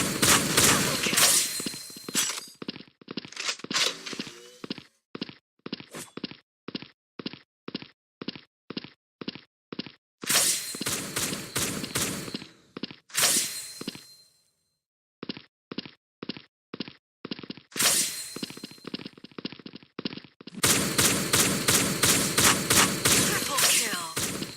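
Shotgun blasts from a zombie shooter video game fire in rapid evenly spaced volleys, loud and close, broken by brief pauses and dense bursts of overlapping shots.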